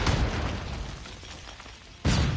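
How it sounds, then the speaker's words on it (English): A smoke grenade thrown in Call of Duty Mobile bursts with a loud, dull pop that fades into a low rumble, then a second sharp burst hits near the end, with no speech. "I know it sounds ridiculous, but throwing smoke grenade."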